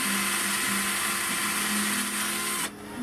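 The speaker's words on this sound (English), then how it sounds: "drill out the mouthpiece." A power drill whines loudly and continuously, drilling out a wooden flute mouthpiece for a few seconds before the motor cuts out abruptly.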